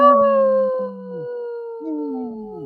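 A wolf howls in long, sustained, gradually falling tones, with a second howl rising in near the end, loud and clear against silence with no talk, used in a radio sponsor spot for a wolf-protection group.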